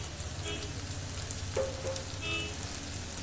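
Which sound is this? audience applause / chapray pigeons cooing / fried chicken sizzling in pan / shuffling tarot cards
fried chicken sizzling in pan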